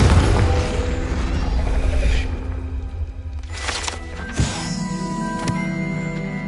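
A Confringo blasting curse detonates in Hogwarts Legacy, a heavy booming explosion that rolls away into rumble, then sharp bursts and crackling impacts follow, loud and close.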